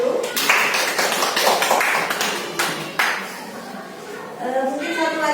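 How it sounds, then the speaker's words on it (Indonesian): A live audience at a teachers' discussion session breaks into applause, several bursts of clapping close by, then it fades and a voice speaks again. "Kita beri aplaus dulu."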